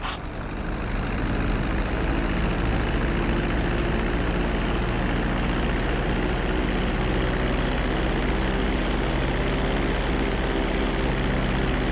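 Airplane engine drones steadily and loudly throughout a landing approach on a runway in Grand Theft Auto V, a sustained heavy propeller-and-engine hum with low rumble and no voices.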